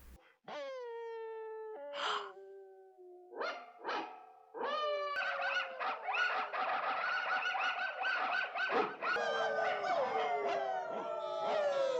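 Animated dogs bark and howl in the Twilight Bark scene of Disney's 1961 101 Dalmatians, starting with a few drawn-out howls and barks, then swelling into an overlapping chorus of many dogs.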